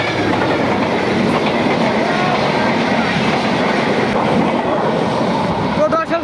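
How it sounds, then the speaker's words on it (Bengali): A train passes close by on railway tracks, a loud, sustained rumble with rhythmic clickety-clack of the wagons running across the whole stretch. "ট্রেন কিন্তু অলরেডি চলে আসছে"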